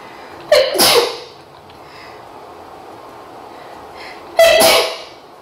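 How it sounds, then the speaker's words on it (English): Two loud sneezes from a person, roughly four seconds apart, each a sharp burst standing out over a quiet room background. "I have to sneeze."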